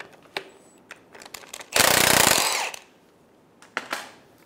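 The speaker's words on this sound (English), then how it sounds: "Remove the top nut, remove the top bracket." A 15 millimeter socket on a power tool spins off the top nut of a rear shock absorber on a 2012-2020 Chevrolet Sonic: one loud, rattling whir of about a second, close by, framed by a few sharp metallic clicks.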